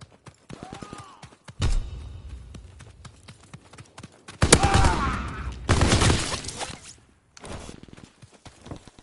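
Gunfire in a PS4 video game, with sharp shots and loud rapid bursts in several clusters separated by quieter gaps, under occasional talk.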